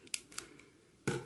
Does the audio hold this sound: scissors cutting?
yes